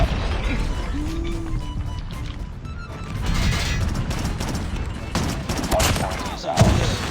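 Rapid bursts of gunfire from the Chicom weapon in Call of Duty Mobile ring out in repeated volleys across the clip, loud and dense, with heavier impacts near the end.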